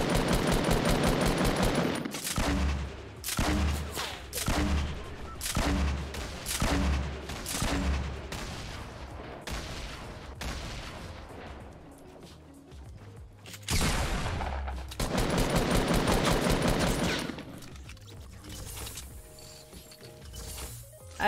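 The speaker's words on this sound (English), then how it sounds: "There was a guy shooting over here east, I think." Bursts of rapid automatic gunfire in the Fortnite Battle Royale video game, loud and close, with repeated sharp volleys, a quieter lull, then another heavy stretch of shooting.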